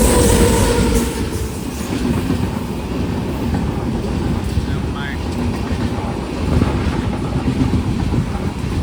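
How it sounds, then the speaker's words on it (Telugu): The Madurai Express train rumbles steadily past close by at a railway crossing, a continuous heavy roar of wheels and carriages lasting throughout. "రెండో ట్రైన్ కూడా క్రాసింగ్ అయితే పడిపోయింది, మధురై ఎక్స్ప్రెస్ ట్రైన్ ఇది"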